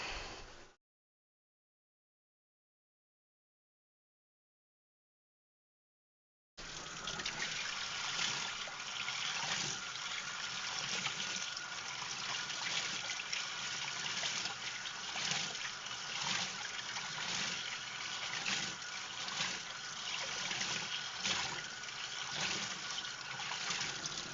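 A clogged filter sponge being rinsed under a steady stream of running water, a continuous close trickle and splash that begins after a brief silence and carries on alone.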